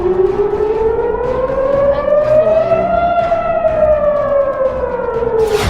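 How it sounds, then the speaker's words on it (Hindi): An air raid siren in Israel wails loud and steady during an Iranian missile attack, its pitch slowly rising and then falling in one long sweeping tone. "जब आसमान में ईरान की मिसाइल नजर आती है तो इजराइल में सायरन बजने लगता है"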